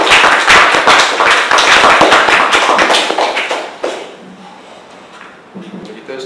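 A room of people at a presentation applaud with loud, close, dense clapping that stops abruptly partway through, leaving a quieter room with a few soft knocks and murmurs.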